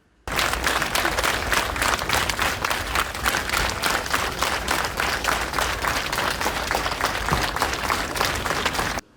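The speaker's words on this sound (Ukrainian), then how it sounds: "в останню путь актора проводять оплесками" Mourners at an actor's funeral in Lutsk burst into sustained, loud applause that starts abruptly, holds as a dense, steady clatter of many hands, then cuts off.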